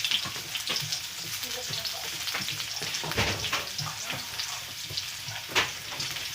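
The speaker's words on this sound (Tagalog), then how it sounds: "magigisa tayo ng sibuyas" Onions sautéing in a pan for a homemade tuna pie filling, a loud, continuous sizzle and crackle with occasional stirring scrapes, close up and without talking.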